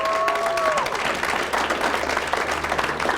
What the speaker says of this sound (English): if y'all can give him a round of applause again